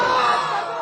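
A large crowd at an outdoor Islamic sermon gathering roars back in unison with loud, sustained shouting and cheering. The voices come close together and fill the whole moment, easing slightly toward the end.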